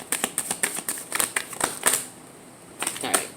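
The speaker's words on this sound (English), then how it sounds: "This is the deck I wanted to shuffle" A deck of tarot cards being shuffled, with rapid crisp riffling clicks in quick bursts that pause briefly and then resume, close and fairly loud with no talking.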